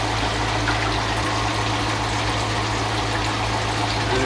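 Water pours out of a 10-inch water filter housing in a steady, continuous gush with a low hum underneath, close and even from start to end.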